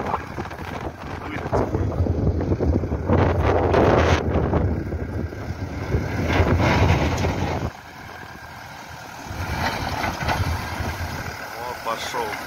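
Strong gusty wind buffets the microphone with a loud low rumble that surges and eases, dropping briefly before picking up again, at a snow-free driving-school lot being cleared by a backhoe loader; a voice speaks intermittently underneath.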